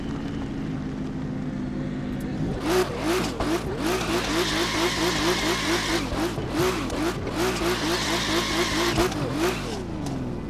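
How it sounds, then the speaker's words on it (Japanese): An Aston Martin Valkyrie engine in the video game The Crew 2 roars and revs repeatedly, pitch rising and falling in quick cycles, loud and close, with no talking. "ザ・クルー2でこのバルカンをエンジンを検証してみました"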